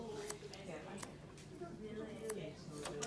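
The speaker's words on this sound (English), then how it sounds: "I'm going to go in with my scissors and I'm going to cut a straight line." Scissors cutting a straight line across a hair fringe: several crisp, quiet snips spaced irregularly over a soft background.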